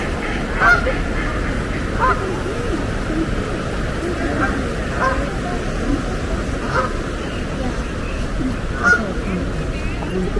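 Geese and ducks being fed honk repeatedly at close range over a steady outdoor rush in Bakewell, calls recurring every second or two.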